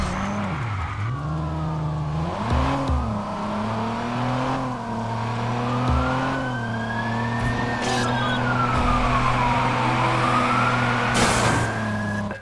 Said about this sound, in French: Bordel, c'est une voiture de police.